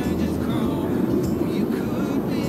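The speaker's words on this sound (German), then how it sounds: "Hier landet ein Flugzeug nach dem anderen." An airplane on approach to land at Schiphol Airport in Amsterdam passes overhead as a steady, loud low rumble that holds through the whole short stretch.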